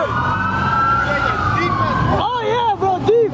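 Police car sirens wail and yelp nearby as several cruisers rush in during a street car takeover, loud over engine noise, with warbling tones rising and falling toward the end.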